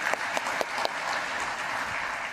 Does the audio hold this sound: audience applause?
yes